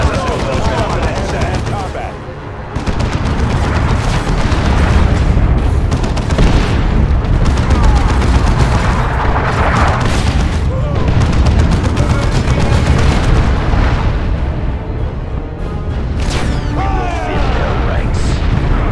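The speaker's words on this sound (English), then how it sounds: "The traitors are laying down a barrage to soften us up." Booming artillery barrage and crackling gunfire fill a Dawn of War II battle, with dense, continuous explosions and rapid shots layered over a loud wash of combat noise that barely lets up for almost twenty seconds.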